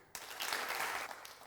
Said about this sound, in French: Encore applaudissements à tout le monde.